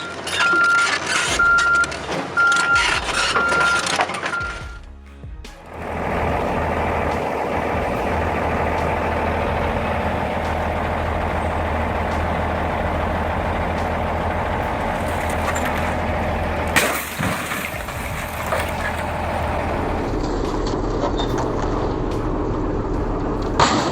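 A heavy scrap machine tears apart an Audi A6 car with a loud, continuous diesel rumble and grinding roar. The din dips briefly early on, then resumes steadily with no voices.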